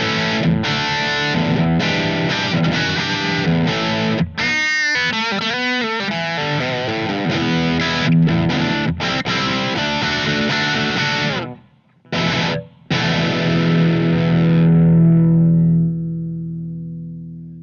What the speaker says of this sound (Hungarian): jön egy crunchosabb